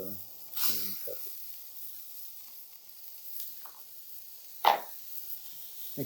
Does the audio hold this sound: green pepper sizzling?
yes